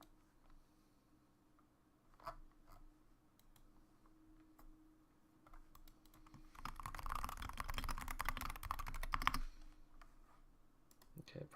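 Computer keyboard clicks and typing in short scattered taps, swelling into a denser burst of rapid keystrokes midway before thinning out again, close and fairly quiet with faint background hum.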